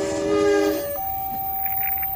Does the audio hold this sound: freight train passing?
yes